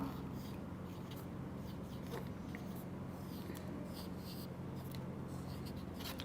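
Faint scratching of handwriting during an Urdu class lesson: soft, irregular strokes of pen or pencil on paper over a low room hum.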